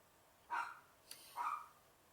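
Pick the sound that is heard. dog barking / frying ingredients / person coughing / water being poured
dog barking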